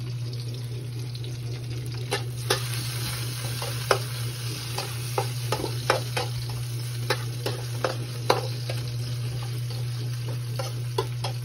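Food frying in a pan until golden brown, a steady sizzle under scattered clinks and scrapes of stirring utensils against the pan, with a constant background hum.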